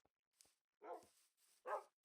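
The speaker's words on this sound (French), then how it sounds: "Il est là le chien." A dog in a hardcore survival video game gives a few short, quiet barks spaced across a couple of seconds, with no talking over them.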